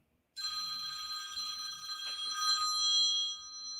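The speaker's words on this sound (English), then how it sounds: "My phone rang." A telephone rings with a steady, bright electronic trill that starts abruptly and keeps sounding close by without a pause, with no talk over it.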